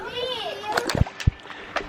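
Kids splash and play in an Intex Easy Set swimming pool, a few sharp splashes breaking through soft water sounds and children's voices close by.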